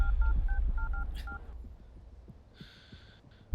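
Telephone keypad tones beep in a quick run of short, evenly spaced dial tones as a call is placed, followed by a brief ringing tone and faint background noise.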